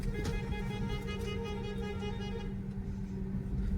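A car horn toots a few times at the start amid steady road traffic and engine hum during a driving lesson on busy Chennai streets, then the traffic noise carries on alone.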